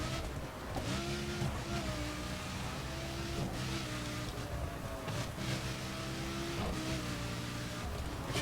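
A Lamborghini Gallardo's engine roars steadily in The Crew racing game, with shifting harmonic revs as the car drives through turns, loud and continuous without pause.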